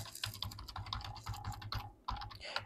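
Computer keyboard being typed on, a quick run of close, quiet key clicks in an uneven rhythm with a brief pause near the end, no voices.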